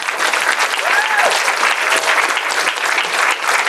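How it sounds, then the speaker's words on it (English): Applause for a high school track team at a school board meeting, a steady, dense burst of clapping from a room full of people that holds evenly throughout. "Again, a round of applause for Redwood's track team"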